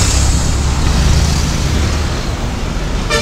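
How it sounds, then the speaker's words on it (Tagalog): Dense traffic crawling along a narrow road, a loud continuous wash of car, bus and truck engine rumble close by, with no voices. "Napaka traffic dito banda"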